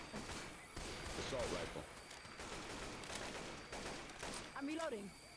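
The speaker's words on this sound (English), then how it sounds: "Assault rifle." Assault rifle bursts in a video game, bright and crackling, firing in several repeated bursts over a steady background, with a voice talking in between.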